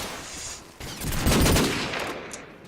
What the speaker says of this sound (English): Nice shot by Killer B, deagling down Ventus